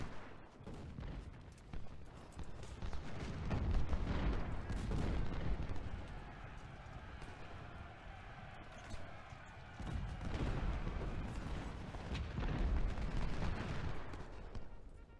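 Continuous battle din from the Civil War strategy game Ultimate General: Civil War at Gettysburg, with rolling musket volleys and heavy artillery booms surging and fading throughout, fairly distant and dense rather than distinct single shots.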